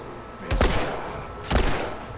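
Two separate loud gunshots in The Last of Us Remastered, about a second apart, each a sharp broadband crack with a short decaying tail, fired at a tough enemy with no talk over them.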